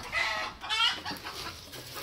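A hen clucks close by in a short run of soft, throaty calls, the bird sitting over a clutch of eggs.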